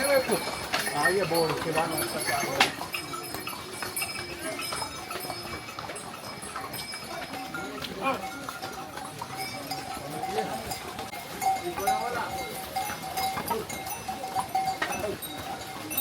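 Pack horses on the snowy Himalayan Kedarnath trek plod along with an intermittent clip-clop of hooves and ringing bell tones, mixed with outdoor crowd noise and voices throughout.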